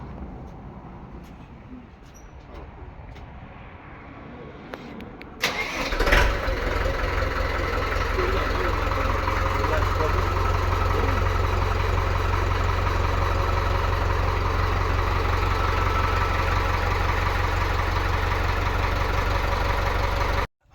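A YTO 554 tractor engine cranks and catches after a quiet stretch, then settles into a loud, steady diesel idle that runs unbroken to the end.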